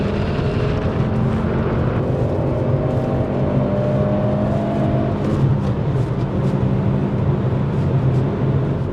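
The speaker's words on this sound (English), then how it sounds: "Lovely free revving 5-cylinder." A 1996 Volvo 850R's turbocharged five-cylinder engine pulls hard under acceleration from inside the cabin, a loud steady droning rev that climbs in pitch, with turbo whir over the rumble and no talk.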